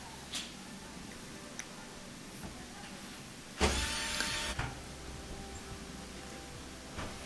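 A power screwdriver whirs for about a second, backing small Phillips head screws out of the control panel of an Electrolux dryer, a short loud burst alone between quieter clicks and handling noises.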